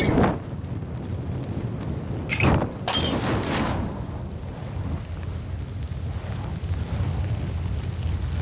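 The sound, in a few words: grenade explosion in Call of Duty Modern Warfare video game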